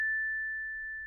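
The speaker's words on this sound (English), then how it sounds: "we get that pure sine wave tone again after the release." A pure sine wave tone from an Empress Zoia FM synth patch, a single steady pitch held for about a second that slowly fades, heard alone.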